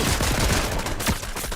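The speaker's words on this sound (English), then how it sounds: "Big chopper going bang." A big chopper gun in a video game fires a loud, dense burst of rapid shots, continuous and close with no talk over it.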